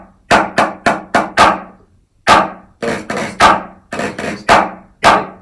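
Sharp, close strikes on a beginner's snare drum play a rudiment exercise, starting with a quick run of four taps, then a pause, then irregular groups of accented strokes, some with short buzzy decays.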